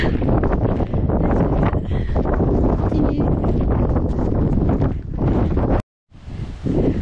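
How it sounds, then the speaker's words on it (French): Strong gusty wind buffets the microphone in heavy, rumbling gusts on a hike from Arrieta to Haría, with a brief drop to near silence before the roaring resumes; a voice speaks briefly. "Je tiens ma casquette par moment parce qu'il y a beaucoup de vent. Il y a des rafales en tout cas."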